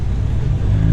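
A red Ford Mustang Mach 1 rumbles at a car meet, its engine a loud, steady low growl that swells slightly toward the end, with no voices.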